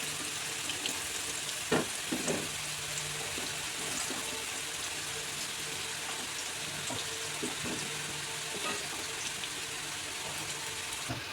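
Potatoes deep-frying in hot oil until reddish, a steady close sizzling hiss with a few sharp crackles and pops near the start, continuing evenly with no talking.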